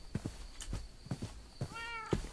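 A Minecraft cat gives a single clear meow near the end, preceded by soft clicking footsteps or taps, all quiet and close with no talking.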